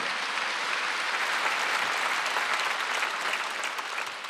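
A church congregation at a Wednesday worship service breaks into loud, sustained applause that fills the room evenly for several seconds before tapering slightly at the end.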